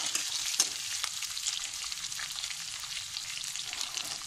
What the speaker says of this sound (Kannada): ಇದಕ್ಕೆ ಹಸಿಮೆಣಸಿನ್ಕಾಯಿ ಹಾಕ್ತಾ ಇದ್ದೀನಿ, ಎಲ್ಲ ಸೇರಿ ಒಂದ್ಸತಿ ಫ್ರೈ ಮಾಡ್ಕೊಳ್ಳೋಣ